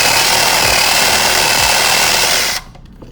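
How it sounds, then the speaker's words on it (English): Power drill boring a 1-inch hole into wood with a spade-style bit, a loud steady grinding whir that cuts off abruptly near the end, leaving a brief quiet tail. "creates a pilot hole, and then the sides start to chew away at the wood"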